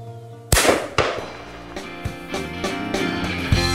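A shotgun goes off while hunting in the woods, one sharp, loud blast followed by quick reports or echoes. Background music plays under it.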